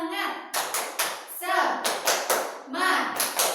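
Schoolchildren in a classroom perform a rhythmic spirit clap, sharp unison claps in quick patterned bursts alternating with their voices chanting together.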